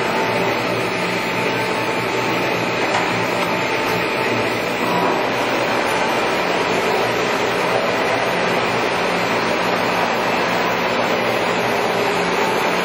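A Carlton 4-foot radial arm drill with a 13-inch column runs with a steady, even mechanical hum and whir, loud and unbroken throughout with no voices.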